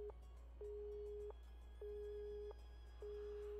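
A phone busy tone follows a dropped call in the Nekopara visual novel: repeated electronic beeps in an even on-off rhythm, clear and alone against a faint low hum.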